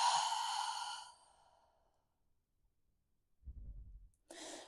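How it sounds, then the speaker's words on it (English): A person slowly exhales through a breathing pattern in a golf flexibility stretch: a close, airy breath fades out over about a second, then quiet, a low rumble, and a short breath at the end. "hold it a second, and then out."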